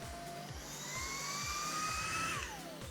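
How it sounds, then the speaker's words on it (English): A FEPPO 30KPa cordless vacuum cleaner runs in auto mode with a steady high whine, its pitch rising and then sliding back down as suction adjusts, close and loud throughout. "so it automatically adjusts when you need to have more suction power"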